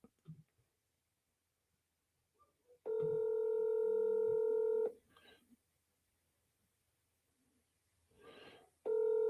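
Telephone call being placed: a long steady dialing tone sounds for about two seconds, followed by short muffled noises and a faint voice, then the tone returns at the end, all in a quiet room.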